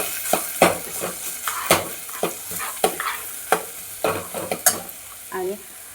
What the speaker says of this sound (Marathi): छान हलवून घ्यायचं.